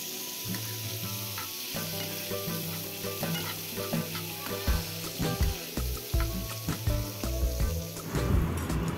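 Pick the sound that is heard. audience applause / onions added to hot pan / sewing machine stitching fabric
onions added to hot pan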